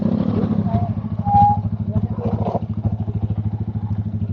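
A motorcycle rides over a steep, rocky rough road in a nature park, its engine chugging steadily and near with rhythmic pulsing and clattering bumps throughout, a brief whine partway through.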